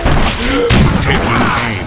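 Units trade gunfire in the real-time strategy game Battle Realms, a loud, dense burst of overlapping shots and thuds that runs through the clip while unit voices call out commands.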